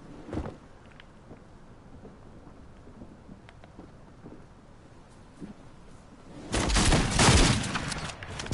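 Video game gunshots crack out as faint scattered pops over quiet ambience, then a much louder dense volley of shots bursts in near the end.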